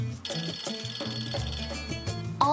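A phone ringtone plays out during an unanswered call in a Turkish TV drama, a melodic ring repeating steadily and fairly close, with no one picking up.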